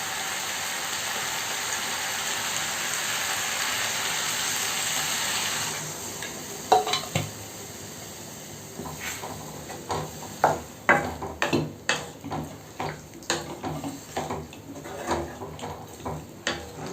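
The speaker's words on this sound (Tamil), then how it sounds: "இது தண்ணி சேர்த்து நல்லா கொதிக்க ஆரம்பிச்சிருச்சு" A pot of pepper chicken curry gravy, just topped up with water, bubbles and simmers steadily, with a broad hiss at first giving way to irregular popping bursts from the boiling liquid, close by.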